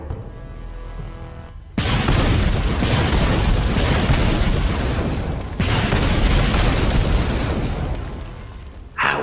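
In a video game, a raid bombardment sets off a long, rumbling barrage of explosions. Sustained booms fill the stretch, with one heavy burst at the start and another partway through.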